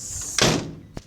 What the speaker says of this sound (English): the door, just wanted to be so the door closed all the way, because for some reason it was taking forever to close